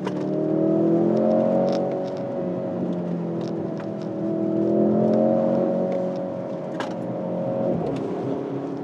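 Mercedes C63 cruising smoothly, a steady engine drone with a low harmonic hum that swells and eases gently, rising slightly in places, heard from inside the car with no talking.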